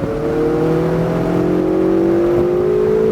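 A Ferrari accelerates on a race track, heading downhill past cones, its engine note a steady, loud, close drone with harmonics climbing gradually as speed builds throughout.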